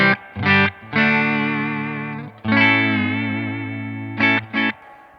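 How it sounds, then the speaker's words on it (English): Sustained guitar chords through a Supro Black Magick Reverb amp's spring reverb ring out with a shimmering, drippy reverb tail, with short stabs near the end, each decaying into a wet, splashy wash. "I love me some spring reverb."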